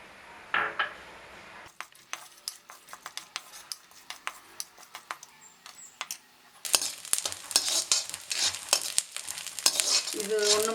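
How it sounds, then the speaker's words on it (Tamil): Grated coconut roasts in a pan for Kerala chickpea curry, a spatula scraping and clinking in repeated strokes over a rising sizzle that grows louder toward the end. "இதில் அந்த கொத்தனை தேங்காவை போட்டு வறுத்தரணும்."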